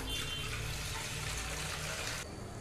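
Water pours steadily for cooking sago, two tumblers' worth filling a vessel in a home kitchen, a continuous close rushing splash that cuts off near the end.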